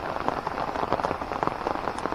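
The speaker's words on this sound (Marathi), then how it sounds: "पाऊस जोरात आला." Heavy rain pours down steadily, a dense and close patter of drops beating on a surface with no pauses and no voices.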